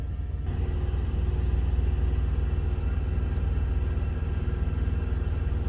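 A truck's engine drones steadily as it rounds a curve on a road with a drop-off, a continuous low rumble that holds at a fairly even level with no voices over it.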